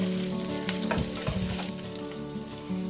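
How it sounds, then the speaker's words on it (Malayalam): Garlic sautéing in a pan, a loud continuous sizzle with a few scraping stirs and a steady tonal hum underneath. "വെളുത്തുള്ളിയൊക്കെ നല്ലോണം വഴന്ന് കഴിയുമ്പോൾ"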